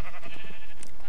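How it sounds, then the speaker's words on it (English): A sheep in Minecraft bleats once, close and clear, in a short burst with no talking around it. "Here is my sheep"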